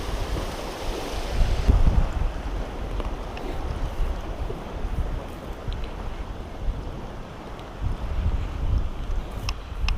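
Strong river current rushing and churning near a fishing spot, a broad continuous wash of water with gusty wind buffeting the microphone, fairly loud with brief surges.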